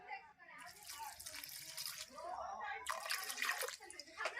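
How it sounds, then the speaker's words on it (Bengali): Water poured from a container into jaggery in a pot, a close splashing and trickling pour in two bursts with a short pause between, in a home kitchen. "এখন জল দিব পরিমাণ মতো"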